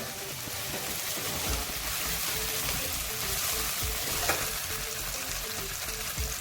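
Ginger garlic paste frying in a pan for a vegetable dalcha, giving a soft continuous sizzle with faint stirring scrapes, low in level and with no voices.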